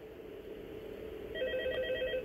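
Phone ringing in the video game Five Nights at Freddy's 2 Mobile Remastered, an electronic trilling ring that starts partway through over a steady low hum, moderately loud.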